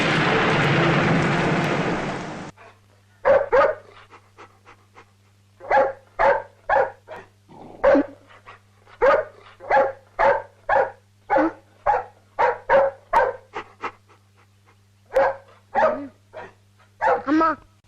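A dog barks repeatedly in short sharp bursts, fairly close, after a brief stretch of rushing noise at the start.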